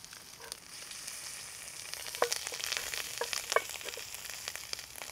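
Whole brown trout frying in a pan on a Firebox stove, a steady close sizzle with crackling spits and pops throughout, and no voices.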